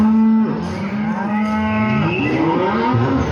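Cattle on a farm low loudly with long, harmonic moos that run into one another, one after another across a few seconds, near and continuous with no talk.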